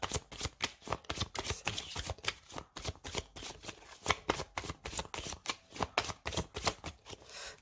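Zodiac oracle cards are shuffled close up, with quick rhythmic riffling and soft slaps repeating in regular bursts throughout. The sound is fairly quiet and there is no talking.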